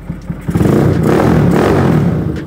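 A motorcycle engine revs up and holds a loud, throaty exhaust roar with some mechanical clatter, close by, with no talking.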